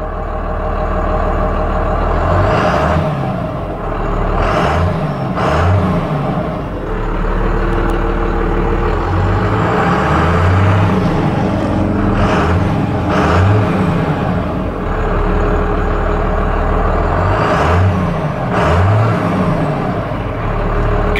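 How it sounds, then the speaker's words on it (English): A 1997 Dodge Ram 2500 with a Cummins 12-valve diesel engine idles loudly and steadily, a deep rumbling chug with periodic surges, no voices present. "The sound of a 12 valve."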